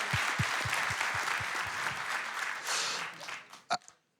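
A fundraising conference audience claps slowly and steadily for about two seconds, then the clapping fades into room noise and ends with a single sharp knock before silence.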